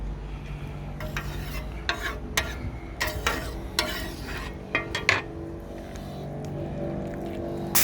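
Chilies and onions frying in plenty of oil over medium heat for sambal belacan, a steady low sizzle broken by sharp scrapes and clatters of a utensil on the pan.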